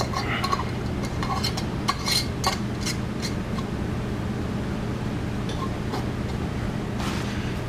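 Metal screw-on lids being tightened onto hot glass jars of ghee, light scattered clinks and scraping chinks of metal against glass repeating at close range over steady background hiss.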